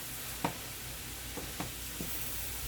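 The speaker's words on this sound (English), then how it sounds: "Add my ginger, my garlic" Minced ginger and garlic hit a hot pan with red pepper flakes for a low-fat Chinese-takeout-style chicken dish, giving a steady close sizzle marked by a few soft scrapes and clicks.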